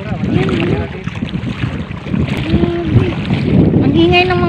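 Motorboats on deep floodwater at Candaba, running with a steady droning engine and rising pitch sweeps amid wind buffeting on the microphone, with voices talking faintly in the background.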